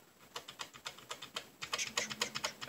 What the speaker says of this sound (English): A membrane keyboard, boys and girls.